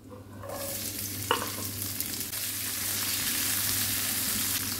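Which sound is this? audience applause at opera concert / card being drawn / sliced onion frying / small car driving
sliced onion frying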